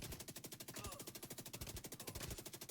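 Rapid automatic gunfire in The Division 2, a continuous, even stream of shots with a quick regular rhythm and no pauses.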